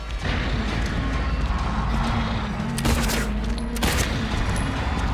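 Gunfire in the Silent Hill 2 Remake video game on PS5, several sharp shots in quick succession over a busy, noisy game background.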